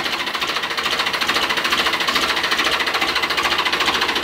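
A 2009 Farmtrac 60 diesel tractor engine idles steadily with a fast, even knocking rhythm, loud and close, with no other sounds.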